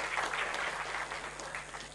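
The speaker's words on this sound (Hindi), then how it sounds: "ताली बजाओ यार" Audience applause for a student at a talk about Indian railway technology, a steady dense clapping wash filling the short moment with no voices on top.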